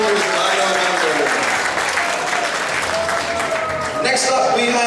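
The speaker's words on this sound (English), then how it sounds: "Big round of applause for Dino Ranger from Power Rangers Dino Thunder." Costume contest crowd at an anime convention applauding a Power Rangers Dino Thunder cosplayer, dense loud clapping sustained from start to finish with a voice speaking faintly underneath.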